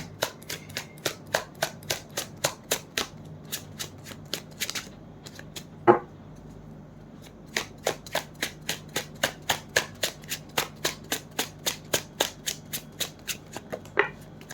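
Tarot cards shuffled by hand in a quiet room, a long run of crisp, evenly spaced riffling flicks with one brief pause and a sharp tap midway, close and clear with no talking.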